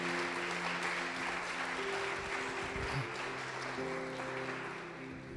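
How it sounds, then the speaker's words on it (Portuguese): A church congregation claps in steady, dense applause with organ or keyboard chords sustained underneath, at a moderate level that eases slightly toward the end. "Pode aplaudir o Senhor Jesus"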